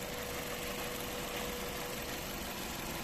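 A car's imported 16-valve engine idles with the hood open, giving a steady, even mechanical drone close by that holds without a break for the whole few seconds.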